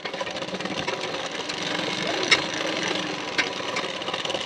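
Sewing machine stitching a hook strip onto a boat neck blouse, a steady close mechanical whir running without a break, with faint clicks over the motor.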